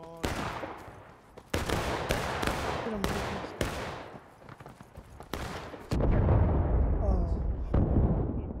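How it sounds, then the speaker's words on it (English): Heavy booming cannon blasts in a Civil War video game burst out repeatedly, loud and close, with rumbling explosions and a low roar filling the later part. "Cannon fire"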